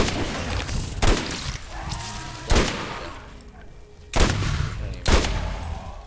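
Sniper rifle shots in Borderlands, four sharp loud cracks spaced a second or two apart, each with a short booming tail over a dense game background.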